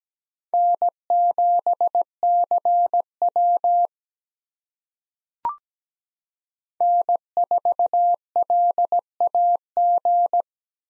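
Morse code call signs are keyed at 17 words per minute as a steady pure tone, with rhythmic dots and dashes in two groups separated by a pause and a single brief click.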